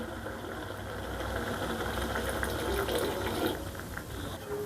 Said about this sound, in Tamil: கொஞ்சம் தண்ணி சேர்த்துடலாம்.